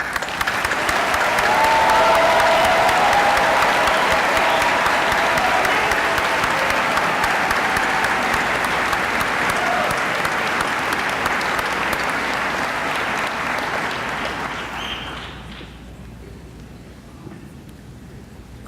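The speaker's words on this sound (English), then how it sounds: "we all applaud you, class of 2017" Sustained applause from a graduation convocation audience for the spring 2017 class of a college of education, loud and dense for about fifteen seconds before fading out.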